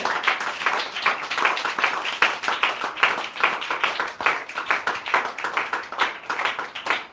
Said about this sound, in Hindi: जिंदा खुदा के लिए बस जोरदार तालियां